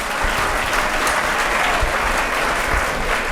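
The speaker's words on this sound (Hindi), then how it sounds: "हम अपने अतिथि का ताली से स्वागत करेंगे विदाई का।" Applause from a seminar audience in Begusarai bidding farewell to a guest police officer, dense and steady clapping from many hands sustained at full loudness throughout, with no talk over it.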